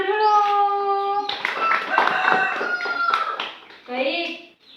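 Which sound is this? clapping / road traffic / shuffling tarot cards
clapping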